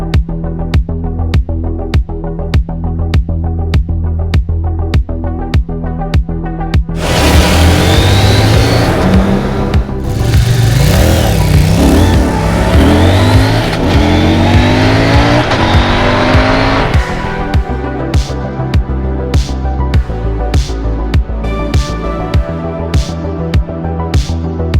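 A 2026 CFMOTO Ibex 800 motorcycle on a test ride: engine idling and revving nearby, then a loud pass-by with rising acceleration and gear changes, fading back to a steady idle.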